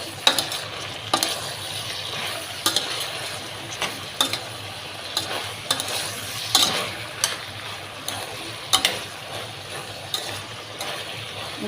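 Half a kilo of okra frying in a pan, a continuous sizzle broken by regular clicking spatula stirs and scrapes close by.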